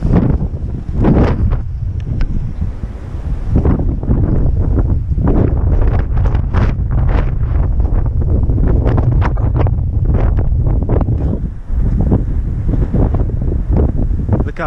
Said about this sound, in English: it's gonna be super windy